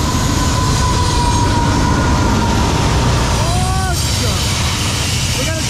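A heavy CSX freight train led by an EMD locomotive rumbles past slowly, loudly and steadily, with low engine drone, wheel noise and occasional high metallic squeals; a person talks over it.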